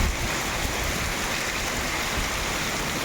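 Steady, dense rain pours down continuously with hail, a broadband hiss of drops striking surfaces with no voices or pauses.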